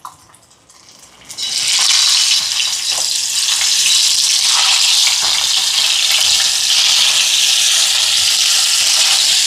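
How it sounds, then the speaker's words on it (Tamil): Fish dropped into hot oil, a loud, continuous crackling sizzle that bursts in after a quiet second and holds steady close up. "மீனை பொறிக்க போடுவோம்"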